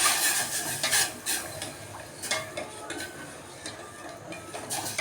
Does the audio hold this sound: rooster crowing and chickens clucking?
no